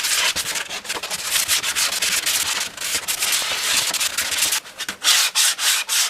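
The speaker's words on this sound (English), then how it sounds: "now as I'm sanding this out" Hand sanding with a hard block across a thin CA glue repair on a Ducati 888 fairing, a steady close-up scratchy rubbing in quick back-and-forth strokes, alone without talk.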